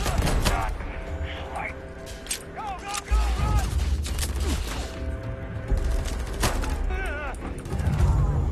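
Gunfight in Starfield against pirates: repeated heavy shots and bursts with booming low impacts, mixed with whooshing energy and mechanical effects, with scattered louder blasts throughout.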